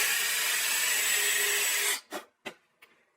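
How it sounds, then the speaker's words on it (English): A small power drill bores a pilot hole with a steady high whine for about two seconds, then stops and gives a few short bursts that trail off. "then I'll drill a small pilot hole."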